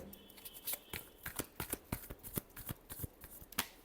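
Tarot cards are shuffled by hand, a rapid series of crisp, papery riffles and slaps in an uneven rhythm, close and fairly quiet, with no talking.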